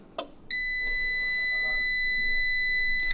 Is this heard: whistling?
no